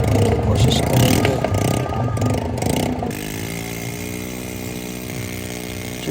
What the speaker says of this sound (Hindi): जो बाइक चला रहा है उसने फुल स्पीड दी है, बल्कि टायर स्लिप हो रहे